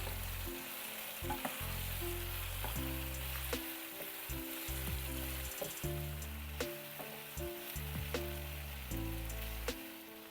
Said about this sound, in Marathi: आता परत एकदा नीट मिक्स करून घेऊ आपण मसाला व्यवस्थित या भाज्यांना कोट होऊ देऊ